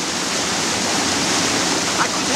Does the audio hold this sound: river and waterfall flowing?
yes